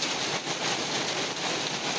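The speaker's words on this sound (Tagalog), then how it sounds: "Ayan, nag-ulan ng yelo ngayon." Hail pelts down in Riyadh as a steady, dense patter that stays level throughout, close and moderately loud, with no voices.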